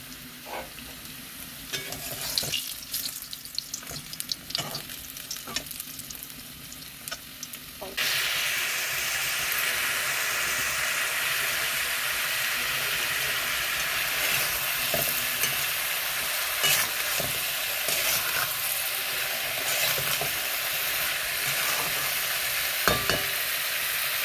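Food frying on two gas burners in a home kitchen, a steady broadband sizzle and hiss that is softer for the first few seconds, then jumps louder and stays continuous with faint clinks.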